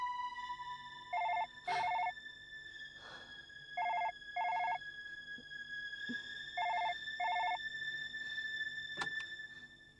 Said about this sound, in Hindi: लेकिन यहाँ तो फोन पहली बार बजा है।